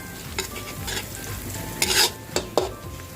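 Garlic frying in hot oil in a pan for Thai pork liver with garlic and pepper: a steady close sizzle broken by a few sharp scraping stirs and clinks, with no voices.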